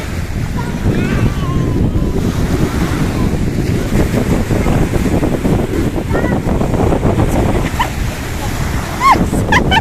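Sea waves wash continuously onto a beach, loud and close, mixed with heavy wind buffeting the microphone and faint voices in the background.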